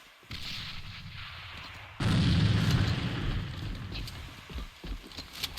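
Grenade explosions in the game A.V.A during a tournament match: a loud boom lands about two seconds in, followed by a rumbling tail and sporadic gunfire-like cracks in the mix.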